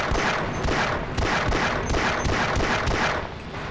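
Rapid weapon fire in the PC game Half-Life crackles in quick repeated bursts, loud and close, with sharp metallic pings mixed in and a brief lull near the end.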